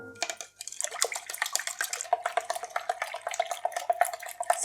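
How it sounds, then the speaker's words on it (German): Sugar being stirred into milk heating in a pot on the stove, with a spoon scraping and clinking steadily against the pot's metal sides in quick, continuous strokes. "Und dann auch noch den Zucker mit reinrühren."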